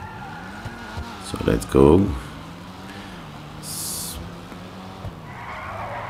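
An Annis Euro Sport car engine in GTA Online drones steadily while tires screech in a short drifting burst, with someone talking over the driving sounds.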